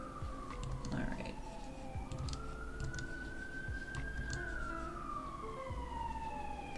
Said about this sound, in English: Sorry for sirens.